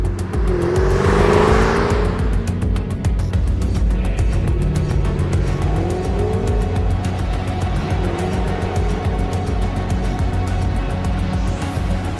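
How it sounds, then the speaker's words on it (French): A loud car drives past in a tailing scene, its engine roaring steadily with rising and falling revs and a whooshing pass, close and dominant throughout. "le gamos qu'on entend à 10 km"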